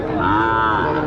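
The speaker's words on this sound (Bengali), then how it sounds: "এখানে প্রচুর গরু আছে আজকে আমদানিতে।" A cow moos loudly and close by at a livestock market, one long drawn-out low bellow filling the whole moment.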